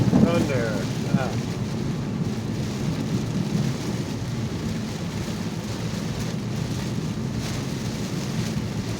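Thunder rumbles low and continuous through a rainstorm, with steady rain hiss and wind buffeting the microphone, and a voice briefly heard at the start.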